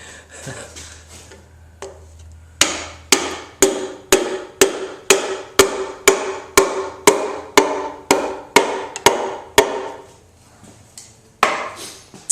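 A hammer strikes metal in a steady series of sharp, ringing blows while installing a piston, about a dozen evenly spaced hits, close and loud with no talking.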